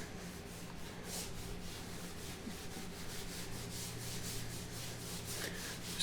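A cloth rubs patina onto a surface in quick, repeated back-and-forth wipes, a close, steady scratchy swishing with no talking.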